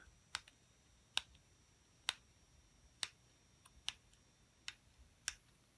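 Seven sharp, isolated clicks from a 300-watt touch dimmer light bulb socket, spaced roughly evenly about a second apart, crisp and close against a quiet, faintly humming background.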